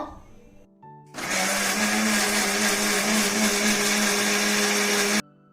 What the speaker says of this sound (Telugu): ఇవన్నీ మిక్సీ వేసుకొని జ్యూస్ తీసుకుందాము